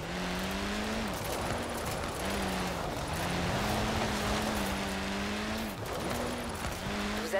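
Drifting car in Forza Horizon 4: a steady, loud engine drone that rises and falls with throttle, shifting pitch in repeated sweeps, with tire squeal running throughout for several seconds.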